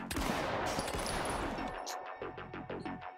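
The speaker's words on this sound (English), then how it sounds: "now they're shooting correctly" Rapid gunfire rings out in the video game Esse Proxy, with dense overlapping shots packed closely in the first half and then a steadier stream of separate bursts.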